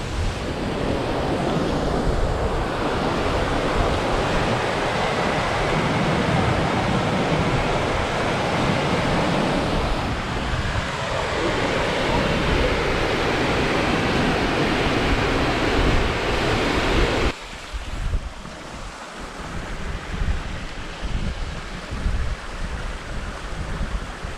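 A swollen river in the Scottish hills near Lochnagar and the Dubh Loch rushes with a loud, steady roar after heavy overnight rain, and wind buffets the microphone.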